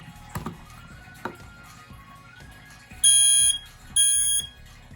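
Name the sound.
KDM i910 smoke alarm sounding during test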